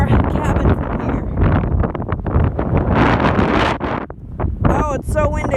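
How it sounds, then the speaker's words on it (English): Strong wind blowing hard across the microphone on a high coastal overlook above a beach, a loud continuous buffeting roar with gusts, while a person talks over it. "Oh, it's so windy"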